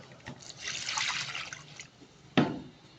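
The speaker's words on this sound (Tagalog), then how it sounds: "Lagyan natin ng tubig." Water splashes into a cooking pot of stewing vegetables with chayote and carrots, a soft pouring burble lasting about a second, then a brief clunk near the end.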